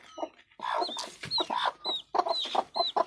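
A brooding hen clucks in close, repeated bursts, with sharp rising squawks between the lower throaty clucks. The rhythm is uneven, and no one speaks.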